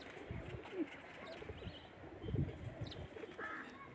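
Pigeons coo softly over a busy rooftop background, with soft repeated low calls scattered throughout and someone talking nearby.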